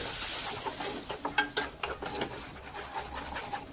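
Tomato paste with ginger, chilli and garlic stirred in a pan, with irregular scraping and sizzling strokes at close range and no talking.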